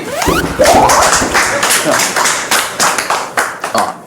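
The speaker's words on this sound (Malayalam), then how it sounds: "കൈയടിക്കേ." A few people clapping indoors in a comedy scene, a brisk, close burst of hand claps mixed with talking voices that fades into uneven separate claps.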